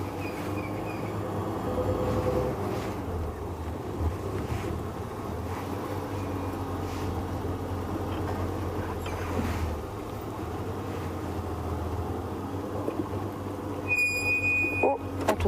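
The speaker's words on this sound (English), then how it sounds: "Just let my engine run for a bit." A safari vehicle's engine idles steadily through the whole stretch, a low continuous rumble close by, with a few faint sounds around it.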